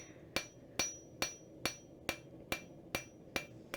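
Hot metal being forged with the peen of a blacksmith's hammer, nine evenly spaced ringing strikes landing about every half second, close and clear with no talking.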